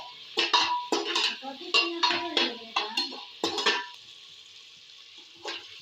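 A spoon scrapes and clinks against a pan as browning onions are stirred for a chicken gravy, with a quick series of close metallic knocks that stop, then one last tap after a short pause.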